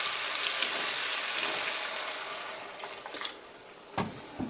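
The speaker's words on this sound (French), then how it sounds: "Maintenant, on ajoute notre bouillon." Broth poured into a pot of softening butternut squash, a steady rushing splash and hiss that eases off into bubbling and a few knocks near the end, close up, with no talk.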